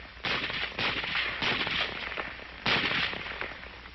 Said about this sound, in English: one man firing a Garand can do nearly as much damage as 3 men using the old-type Springfield rifle with its hand-operated bolt